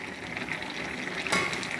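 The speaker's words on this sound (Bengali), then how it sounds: "এবার আমি সবজির সাথে শাকটাকে মিশিয়ে নেব" Bottle gourd greens and vegetables are stirred in a pan, a soft wet bubbling sizzle with a brief louder scrape of stirring near the end, close and fairly quiet with no voices.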